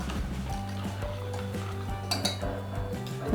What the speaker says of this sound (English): And now we are whisking in the sugar.